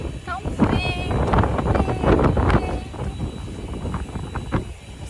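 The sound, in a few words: strong wind blowing while refueling outdoors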